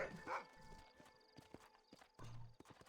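A horse in a Red Dead western video game, hooves clip-clopping in uneven steps with a short whinny near the start, moderately close amid other game sounds.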